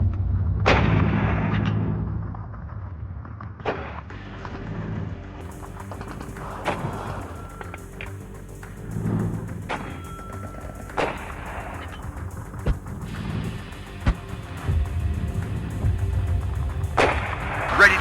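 Artillery firing smoke rounds in the WARNO battle simulator game, a series of heavy booming shots at irregular intervals, some close and loud, others more distant, over a steady background rumble.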